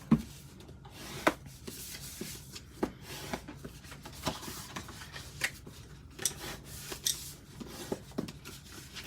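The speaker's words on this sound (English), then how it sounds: "now we're going to fold it on the score lines, and I do have my bone folder here" Paper for a Halloween treat box being folded along score lines and smoothed with a bone folder: repeated soft rubbing and rasping strokes with small crisp taps, close and quiet, no talking.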